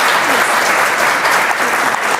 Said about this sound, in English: want to give a round of applause for Prime Minister Kaja Kallas.